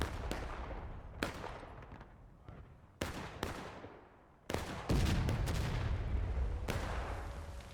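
In the War of Rights video game, a cannon and other firearms fire during a large 250-player battle on a rocky-slopes map, with sharp booms and cracks scattered irregularly over a rumbling battlefield background.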